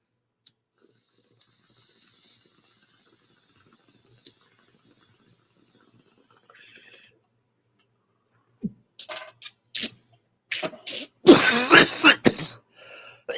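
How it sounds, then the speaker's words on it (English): A person coughs and clears their throat in a harsh, loud burst of several hacks near the end, after a long hissing exhale and some quiet breathing. "I didn't mean to cough so much there"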